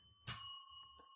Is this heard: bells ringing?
yes